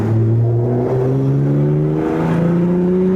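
A car engine drones loudly up close, its pitch climbing steadily as it revs and accelerates, shifting gears once, with no voices.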